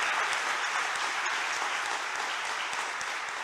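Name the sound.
audience applauding the minister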